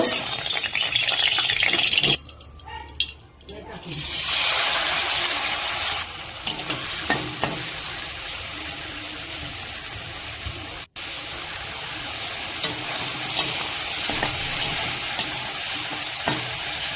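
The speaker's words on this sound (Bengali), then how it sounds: "এবার কড়াইতে অল্প পরিমাণ সর্ষের তেল দিয়ে চিংড়ি মাছগুলোকে হালকাভাবে ভেজে নিব" Shrimp fry in a little mustard oil in a wok, a loud continuous sizzle and hiss close by, with a brief quieter gap early on and occasional stirring clatter.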